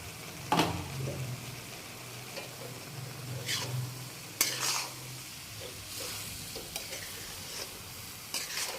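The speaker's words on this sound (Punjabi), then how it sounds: "ਹੁਣ ਇਹ ਰਿੱਝਣ ਲੱਗ ਗਈ ਤੇ ਆਪਾਂ ਇਹਦੇ ਵਿੱਚ ਨਾ ਗਵਾਰੇ ਦੀਆਂ ਫਲੀਆਂ ਪਾ ਦੇਣਗੇ" Guar beans sizzle in a simmering dhaba-style masala while a spoon scrapes and stirs the pan, giving a few louder clanks over a steady frying hiss, close by with no talk.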